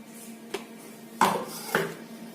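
Ground peanuts are added to sabudana khichdi in a bowl and stirred in, heard as three clinks and scrapes of a spoon against the dish over faint background hum.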